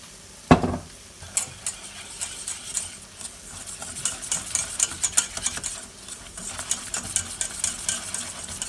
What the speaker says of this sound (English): So whisk this around.